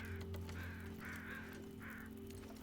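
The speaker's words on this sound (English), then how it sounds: "But I can also hear some crows." In the snowy wilderness of The Long Dark, crows caw in a short series of three or four harsh calls, faint and distant over a low steady background hum.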